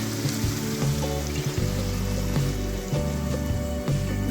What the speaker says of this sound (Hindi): मैंने तकरीबन हाफ कप के करीब पानी ऐड किया है,